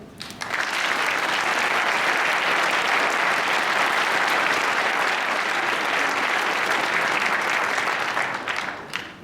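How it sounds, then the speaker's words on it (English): Sustained audience applause at the Taste Canada Awards Gala 2017, a dense, loud wash of clapping from a large crowd that swells quickly, holds steady for several seconds, then tapers off at the end. "one more time, round of applause"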